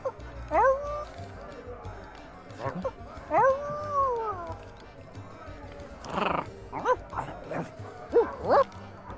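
Dog in the Sea of Thieves video game, barking, yipping and giving rising howls and whimpers in a series of separate calls, close and clear over a low background.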